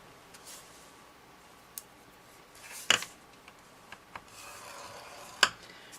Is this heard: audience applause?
no